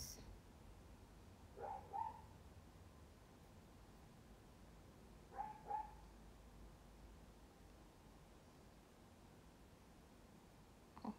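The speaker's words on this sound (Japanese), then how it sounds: "なんで吠えてんのやろ" A dog outside gives two short pairs of barks, distant and faint, separated by a few seconds of quiet background hiss.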